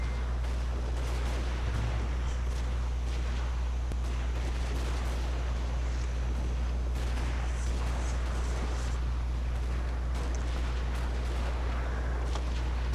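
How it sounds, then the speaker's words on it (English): Cannons and massed fire roar continuously across a Civil War strategy game battlefield, a dense, loud rumble of volleys and distant booms with no clear gaps. "17th Corps cannon still back there in the woods, just firing volley after volley"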